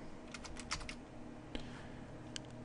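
Keys clatter on a computer keyboard in a few quick, light bursts of close taps with brief gaps between them, over a faint steady background hum, without any speech.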